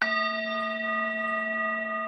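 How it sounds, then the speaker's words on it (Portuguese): Tibetan gong struck during a live meditation session, one sustained shimmering ring with steady bright overtones that holds at full strength and fades only slightly over its length, with no talking over it. "Eu vou dar 3 toques no nosso gongo tibetano."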